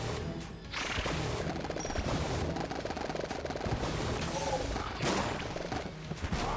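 Continuous rapid gunfire from Enter the Gungeon, a dense, steady stream of shots with crashes and small booms layered over it, loud and unbroken for several seconds.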